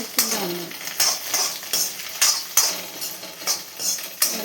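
Ginger paste frying over a high flame in a pan for egg noodles: a spatula scrapes and stirs in a steady rhythm of about two strokes per second over a close, continuous sizzle.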